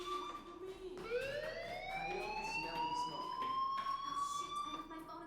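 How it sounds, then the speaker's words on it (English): In the Life is Strange video game, a fire alarm sounds as a continuous, rising electronic wail that sweeps upward and then holds a bright, steady tone at moderate loudness. "do you hear that fire alarm? That means you should be outside."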